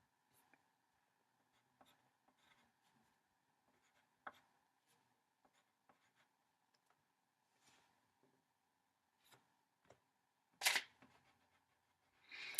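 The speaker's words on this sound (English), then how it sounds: "So I'm going to write one on the board again." Marker or chalk writing on a classroom board for a K-12 fractions lesson, faint scattered strokes and taps through the quiet, with a louder scraping burst near the end.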